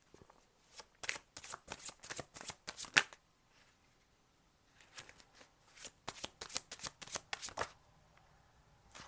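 Tarot cards are shuffled by hand in quick riffling bursts, close and soft, with a brief pause before a second run of crisp flicks and taps.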